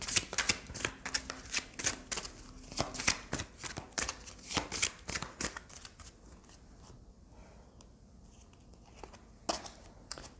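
Oracle cards being shuffled by hand, a fast series of close, crisp riffling slaps for several seconds that thin out into a quieter stretch, with a couple of last snaps near the end and no talking.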